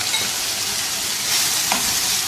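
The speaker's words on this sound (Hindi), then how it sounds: "इसको अब 4-5 मिनट अच्छी तरह से भून लेना है" Marinated minced keema fries in oil in a wok over medium heat, giving a loud, continuous close sizzle with faint stirring scrapes beneath it.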